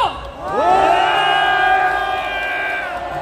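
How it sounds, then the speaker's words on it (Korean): A street rally crowd calling for a special prosecutor and a presidential resignation roars with loud, sustained cheering and shouting, voices rising together at once and holding strong throughout. "시민 여러분, 김건희 특검과 윤석열 퇴진을 응원하고 동의하신다면 박수와 함성을 보내주십시오"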